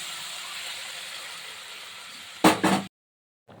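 Boiled urad dal being poured into a hot pan, giving a steady broadband sizzle that flares into two loud bursts near the end, then cuts to near silence with a faint clatter.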